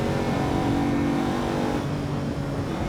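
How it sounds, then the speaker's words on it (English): A V12 supercar engine in Assetto Corsa EVO drones steadily at sustained revs, a loud, continuous mechanical hum with no voices over it. "The V12 sounds lovely."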